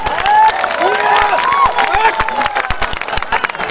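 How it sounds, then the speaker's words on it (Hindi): A rally crowd in Rajaun block applauds and cheers for Nitish Kumar, the clapping dense and steady throughout, with shouting voices and whistle-like calls mixed in above it. "जरा जोरदार ताली बजाइए"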